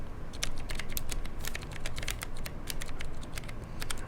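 Typing on an Atreus keyboard, a rapid irregular run of crisp key clicks close up, slow and uneven in rhythm, with no talking.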